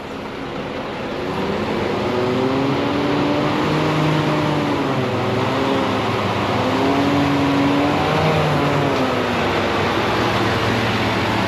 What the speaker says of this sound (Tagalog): May delivery truck eh.